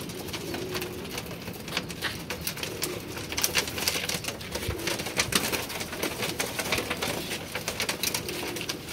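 Pigeons coo steadily in a loft holding young chicks, a continuous soft murmur of calls with light rustling throughout, fairly close and moderately loud.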